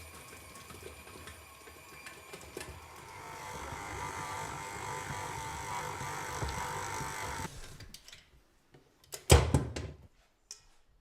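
A KitchenAid electric stand mixer kneads a classic white bread dough with a steady buzzing motor whir that cuts off near the end, followed by a sharp knock and clatter.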